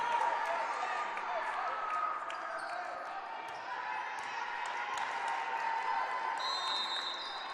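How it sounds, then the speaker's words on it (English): A crowd of fans cheers and claps in a gym during a college volleyball championship match, a steady, moderately distant roar with scattered squeaks and bounces throughout. "The fans cheering these teams on"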